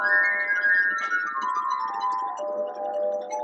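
A street performer plays a tune on wet crystal glasses, with pure, ringing sustained tones that glide slowly from one pitch to the next, clear and steady with no voices.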